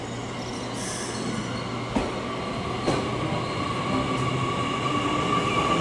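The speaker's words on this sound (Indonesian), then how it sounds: "kalau yang ini ada kereta cepat" A high-speed train rushes past in a steady, loud roar of rail noise with faint wheel squeal and a few soft clacks, heard up close and without any talk.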